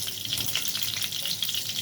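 Rice fries in a spoonful of ghee with a steady, close hiss and crackle, broken by small stirring scrapes, and no one speaks.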